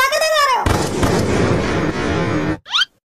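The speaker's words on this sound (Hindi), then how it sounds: "तुम यहाँ पटाखे दगा रहे हो" Firecrackers going off, a loud sharp burst followed by a long crackling roar, then a brief whistling rise at the end, close and dense, with a voice calling out just before.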